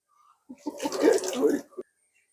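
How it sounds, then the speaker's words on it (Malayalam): Water poured from a cup splashes onto a motorbike being washed, a single close splashing pour lasting about a second that ends with a final slap of water, then quiet. "ഞങ്ങൾക്ക് ഓസ് ഇല്ല, അതുകൊണ്ടാണ് ഞങ്ങൾ കപ്പ് കൊണ്ട് കോരി കഴുകുന്നത്"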